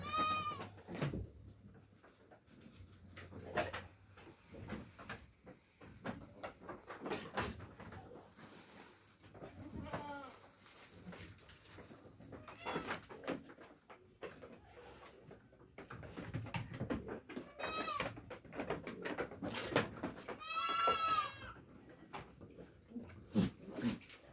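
Goats bleat repeatedly at varying distances, some calls loud and wavering, others faint, over a steady low rumble of background noise.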